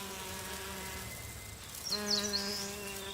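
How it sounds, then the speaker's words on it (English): Eastern honey bees working as foragers gathering pollen in a Yangpyeong forest in Korea, a steady close droning buzz with layered wingbeat tones that swells slightly louder near the end. "Eastern honey bees."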